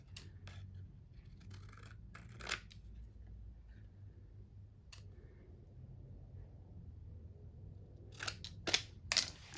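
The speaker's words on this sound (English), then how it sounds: "We'll just cut it in a square or a rectangle, whatever works." Scissors snip through paper to cut a square or rectangle for a vertical Classic Happy Planner layout, with short crisp cuts in a few quick bursts near the start and a louder cluster at the end over quiet room hum.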